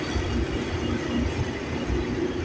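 A CN freight train rolls slowly past Aldershot GO Station in Burlington, giving a steady, continuous low rumble of railcars and wheels, close and fairly loud with no voices.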